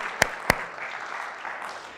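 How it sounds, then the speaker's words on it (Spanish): A church congregation applauds, a moderate, diffuse patter of clapping that continues throughout, with two sharp, loud claps or knocks standing out near the start. "Denle un fuerte, caluroso aplauso porque estamos en la gracia que es Cristo Jesús"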